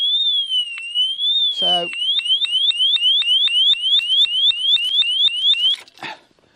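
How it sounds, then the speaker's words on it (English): A bike security alarm goes off, sounding a rapid, repeated electronic chirping pattern of rising beeps, fairly loud and close, with a brief spoken word near the start. "then gives you 3 seconds to undo it, and then the alarm will go off"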